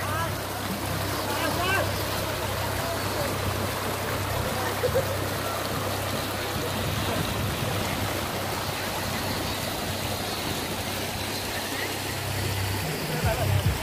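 A stream in a hot Hue forest valley rushes steadily, a dense continuous wash of flowing water that stays even throughout, with a voice speaking over it.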